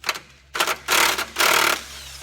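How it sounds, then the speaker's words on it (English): A 15mm bolt is removed from a Ranger's clutch, heard as several short close bursts of a power tool whirring, separated by brief pauses. "So remove your 15mm bolt."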